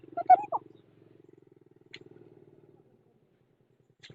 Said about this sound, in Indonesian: Maaf, Pak, ada suara motor.